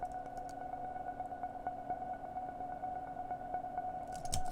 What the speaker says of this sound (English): now we get this really cool soundscape that sounds like this.